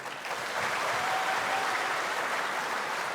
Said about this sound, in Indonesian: Tepuk tangan untuk Koni